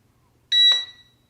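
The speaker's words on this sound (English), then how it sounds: "that beeped, so I'm guessing that it is filming me now" An FQ777-126C nano hexacopter gives a single short, bright electronic beep with a slight pitch step, close and clear against near silence.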